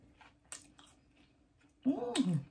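Catfish nuggets being chewed up close, a few soft crunches early on, then a louder burst of wet chewing near the end, with faint background noise and no speech.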